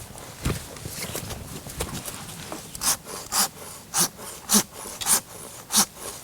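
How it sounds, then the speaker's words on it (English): A Silky hand saw cuts through a large maple branch, its rasping strokes scattered at first and then settling into a regular back-and-forth rhythm of loud, close pulls. "we always prefer to use the silky saw, the hand saw"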